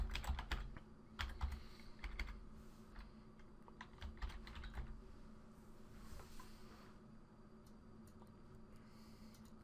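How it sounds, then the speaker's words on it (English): A password is typed on a computer keyboard in quick, irregular bursts of close, soft key clicks with short pauses between them, and no one talks. "Going to retype that password."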